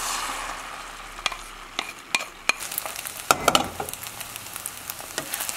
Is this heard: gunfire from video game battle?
no